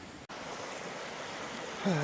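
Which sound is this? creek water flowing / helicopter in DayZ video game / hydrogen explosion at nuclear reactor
creek water flowing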